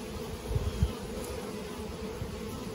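Honeybees hum from an opened hive during a fall Varroa treatment, a low continuous buzz close by, with a couple of brief soft knocks near the start.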